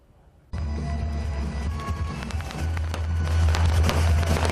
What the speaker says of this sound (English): Thousands of fireworks fly into crowds of attendees who wear helmets and fire retardant